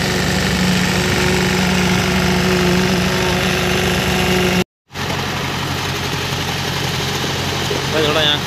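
A concrete vibrator runs during PQC highway paving on a bridge, giving a steady, loud mechanical hum with engine noise behind it. The sound breaks off briefly at one point and then carries on, with speech under it.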